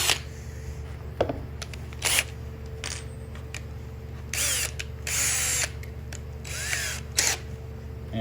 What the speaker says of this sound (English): You want to use a drill bit slightly smaller than the screw you're going to be using to put the corn on